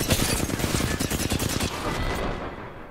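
Dense rapid gunfire from Apex Legends, overlapping bursts of automatic shots crackling loudly and continuously for over two seconds before tapering into a fainter rumble.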